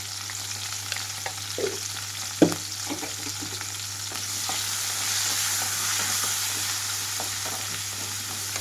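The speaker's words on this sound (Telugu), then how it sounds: "ఇక్కడ ముక్కలు కొంచెం వేగాలండి, మూత పెట్టకూడదు, కలుపుకుంటూ మధ్య మధ్యలో వేయించుకుంటూ ఉండాలి." Green chilli pieces fry with turmeric and salt in an open pan for a stuffed bajji mirchi fry, a steady sizzle running throughout, broken by a few sharp scraping stirs near the start.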